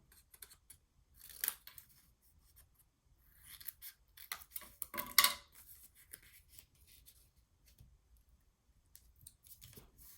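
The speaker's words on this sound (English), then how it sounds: "just make sure you chop off your corners so it folds gentle" Scissors snip through paper corners for a papercraft mini album, giving a few crisp, close cuts spread across a quiet background.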